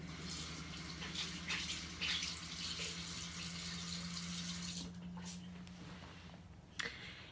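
Water runs steadily from a tap to wet a makeup sponge, a close, constant gushing stream with a faint hum beneath, easing off near the end.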